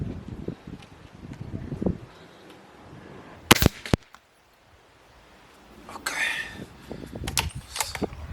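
A Gamo Black Maxxim IGT Mach 1 .177 air rifle rated at 24 joules fires on an outdoor range, a sharp close crack with a quick second snap, then quiet and faint wind rustle.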